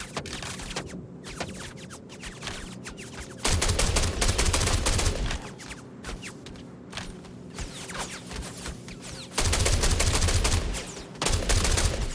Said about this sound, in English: I can't see where they are, I just shoot where the bullets are.